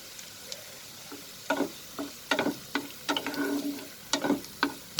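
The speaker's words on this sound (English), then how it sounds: "I'm sauteing it over medium flame." Onion and dried red chilies sauté over a medium flame, with a soft background sizzle broken by repeated scraping stir strokes of a spoon in the pan, steady and close.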